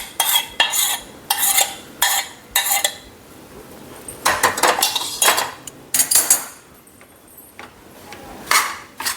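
A spoon scrapes and clanks against a pan while ghee is stirred into the mixture for Gujarati sukhadi, loud close strokes in an uneven rhythm, with brief pauses between bursts of scraping.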